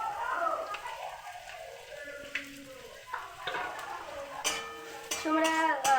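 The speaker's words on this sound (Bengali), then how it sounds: "ভালো করে ভেজে নেব।" Onion and garlic fry in a pan with a soft, steady sizzle, broken by intermittent clinks and scrapes of a utensil stirring against the metal, close and moderately quiet.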